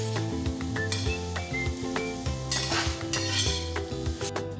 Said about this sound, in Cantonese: 將豬扒回鑊，加入紅椒粒同埋葱花，炒到至乾身。